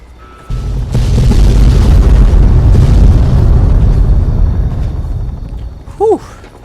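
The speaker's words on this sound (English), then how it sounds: "Well, those are some fireworks right there, Sonny." Big in-game explosion in Fallout 3: Broken Steel at the Adams Air Force Base platform, a loud sustained rumbling blast lasting several seconds that slowly fades, with a brief sharp sound near the end.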